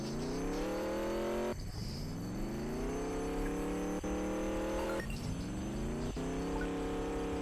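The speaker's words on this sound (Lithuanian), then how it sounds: "aš pradėsiu mašiną" A car engine in the Roblox game Mad City revs and pulls away, its pitch climbing in repeated gear-like sweeps with abrupt resets, loud and steady throughout, with no talking.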